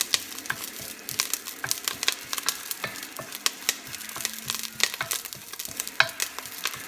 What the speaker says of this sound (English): keep your eye on it and keep stirring it around and moving it. Don't get it too hot because oil will pop back at you